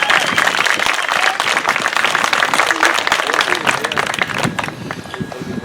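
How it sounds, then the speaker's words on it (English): Sustained applause from an outdoor crowd at a justice rally in a city park, dense and steady clapping throughout with a slight fade near the end. "give her another round of applause"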